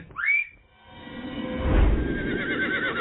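A horse whinnies loudly in a rising, shrill call at the start, followed by a low rumble and a steady background noise, used as an audio drama sound effect of a horse for an old chariot.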